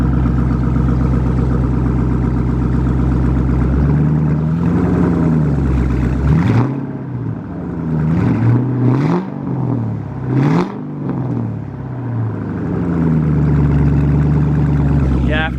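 A car engine idles steadily after its throttle body was cleaned, then is revved several times in quick succession, each rev rising and dropping back before it settles to a smooth idle again; the engine is loud and close.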